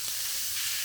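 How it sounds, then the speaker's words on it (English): Garlic sizzles in hot oil during Cambodian home cooking, a brief, steady, hissing fry that is fairly faint and close, with no voices. "Oil, garlic, get them cooked up a little and caramelized. Oh, listen to that sizzle."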